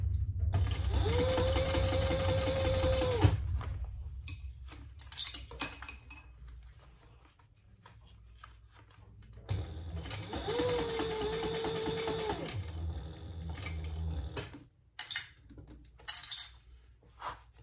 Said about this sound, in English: Now we're just top stitching along there.